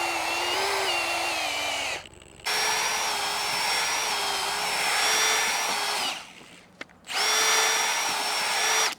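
Power drill with an auger bit boring holes into a worn corner of a lawn, three long high-pitched whining bursts separated by brief pauses, close and loud.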